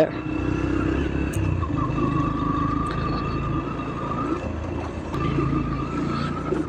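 An air-cooled city motorcycle with ABS, suited to off-road and long rides, runs steadily at close range with a continuous broadband drone and faint engine hum, no voices over it.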